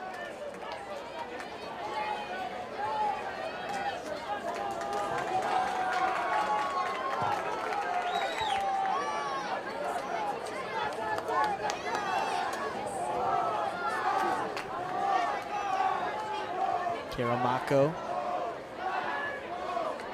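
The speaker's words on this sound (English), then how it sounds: "This North Carolina crowd starting to make some noise, knowing a win is in store." Home crowd at a North Carolina men's college soccer match against NC State, a sustained murmur swelling into cheers under a commentator's continuous talk.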